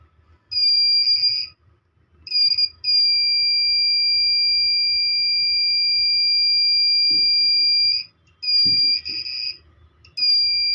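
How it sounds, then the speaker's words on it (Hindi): A multimeter gives a continuity beep while testing a mobile phone speaker. A loud steady high-pitched tone sounds alone, breaking off and restarting several times as the probes lose and regain contact, with a few soft handling clicks. "आप देख सकते हैं बीप साउंड दे रहा है"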